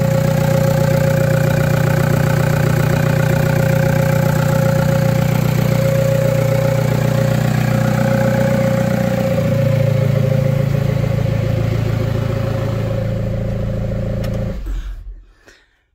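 A Skoda car engine idles steadily and loudly up close with a low, even rumble and faint clatter, then cuts off near the end, leaving silence.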